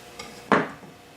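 A knife slices a crispy potato fondant in half, a single sharp crunch and clack against the board after a faint tap, close and brief with no talk.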